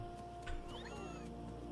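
A cat meows in a brief, faint call that rises and falls, set against a steady background hum with no voices.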